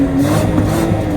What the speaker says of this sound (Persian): الان رو حالت بنزین و اسپورت هم هستیم. ببینیم که صدای اگزوز چطوریه.